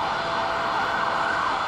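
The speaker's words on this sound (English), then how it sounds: "if you hear the sirens, vehicle is approaching" Ambulance siren in Toronto city traffic, downtown: a loud, sustained wailing tone holding steady with a faint low traffic rumble beneath, no talking.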